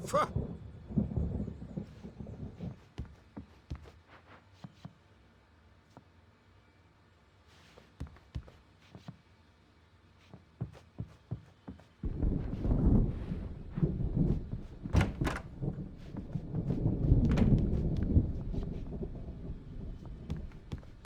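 A thunderstorm in Alan Wake Remastered: low rumbling rolls and gusty wind build into loud, sustained surges in the second half, with scattered sharp cracks and no talking.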